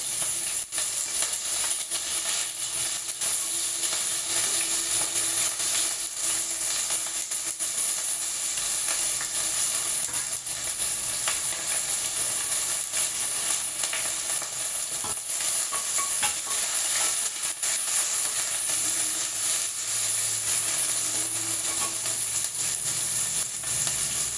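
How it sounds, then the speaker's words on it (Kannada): Onions fry in a hot pan for an avarekalu (field bean) sambar, producing a loud, dense, unbroken sizzle that hisses steadily throughout, close up and with no speech. "ಈರುಳ್ಳಿ ಎಲ್ಲ ಫ್ರೈ ಮಾಡ್ಕೊಳ್ಳೋಣ ಫ್ರೆಂಡ್ಸ್"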